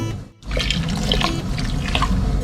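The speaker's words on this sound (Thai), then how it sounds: "แล้วเราก็มาเติมเป็นน้ำส้ม" Vinegar is poured into a pot holding ginger and spring onion for boiling pork belly, making a close, steady splashing trickle that lasts about two seconds after a brief pause.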